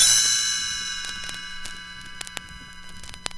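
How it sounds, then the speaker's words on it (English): Bright chimes ring out as a page-turn signal for a read-along storybook, a loud shimmering clang that slowly decays over several seconds with a few soft clicks near the end. "You will know it is time to turn the page when you hear the chimes ring like this."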